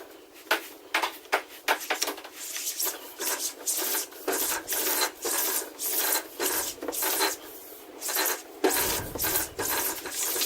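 Metal pipe pushed and worked through a MAXLINE M8097 pipe straightener, the already-bent lead end scraping and rasping in repeated short strokes with clicks, fairly close and steady, with no talk.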